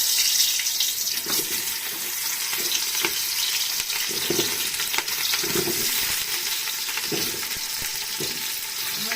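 Vegetables and potatoes frying together in hot oil for khichuri, a loud dense hissing sizzle that runs without a break, with occasional soft thuds and stirring scrapes, close up.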